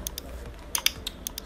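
Keystrokes on a computer keyboard while a keygen script is written, quiet irregular clicks in short bursts with pauses, close and alone.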